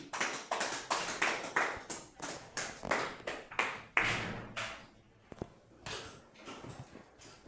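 A church congregation claps in a steady, rhythmic beat, about two claps per second, fairly crisp and close, then breaking into looser, scattered claps for the last couple of seconds.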